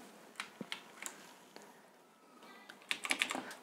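Fingers tapping on a computer keyboard while entering data in accounting software, a sparse run of soft close key clicks that ends in a quicker burst of several keystrokes.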